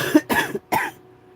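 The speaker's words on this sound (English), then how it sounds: "I still have this wretched cough." A person with a lingering illness coughs three times in quick succession, harsh, close bursts in a quiet room with no talking.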